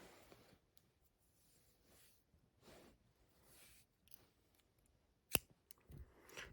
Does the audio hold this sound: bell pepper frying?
no